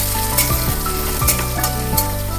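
Chopped onion softening as it fries in oil with cumin and whole spices, a dense continuous sizzle up close, broken by a few scraping stirs of a spatula and a low musical hum beneath.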